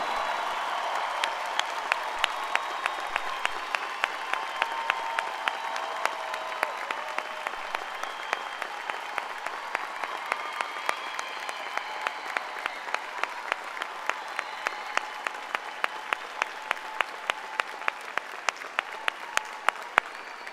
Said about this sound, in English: Let us give these young adults a round of applause to show our appreciation and their dedication to our country.